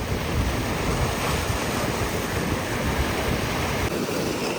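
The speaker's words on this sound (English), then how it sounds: "I want to watch these waves come in." Rough sea waves break along a rocky Cyprus shoreline in a continuous loud roar of surf, mixed with gusts of wind buffeting the microphone.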